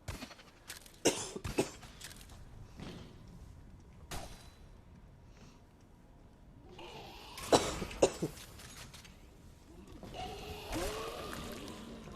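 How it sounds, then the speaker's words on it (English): Several scattered coughs, close to the microphone at a low overall level, come in bursts with quiet stretches between them, along with faint handling noises; no speech. "I'm sorry for coughing."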